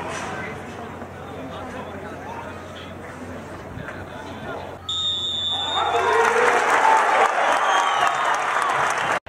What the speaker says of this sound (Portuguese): haverá uma pausa na partida para uma salva de palmas em homenagem ao nosso